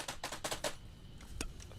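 A few quiet, close keystrokes on a computer keyboard, tapped in a small irregular cluster and then a single later click, faint and alone.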